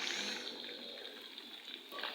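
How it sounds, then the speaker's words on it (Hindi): A little water is poured into a pan of fried chicken and onions for a stew, giving a close, steady sizzling hiss throughout, with no talking. "इनके अंदर मैं थोड़ा सा पानी डालूँगी"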